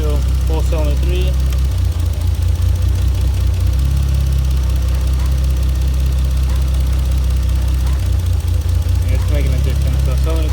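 A 1JZ-swapped Mazda RX-7 engine idles roughly with the cylinder 3 plug pulled, giving a loud, uneven low rumble with a lumpy, stumbling rhythm, while a voice talks over it.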